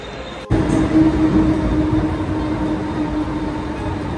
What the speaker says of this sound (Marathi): गाईज आता ट्रेन आलेली आहे.